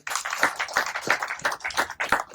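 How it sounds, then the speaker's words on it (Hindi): An audience at a Bahujan poetry gathering in India claps to welcome a guest onto the stage, a dense burst of applause pulsing in a quick, steady rhythm, close and fairly loud. "आप लोग जोरदार तालियों से स्वागत करेंगे।"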